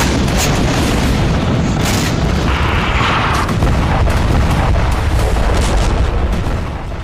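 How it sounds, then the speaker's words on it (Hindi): Gunfire and booms come from a Russian Mi-28 attack helicopter in a combat zone: a dense, loud barrage of rapid overlapping blasts that rumbles on without pause and eases off slightly at the end. "हेलीकॉप्टर से लगातार फायरिंग की जा रही है।"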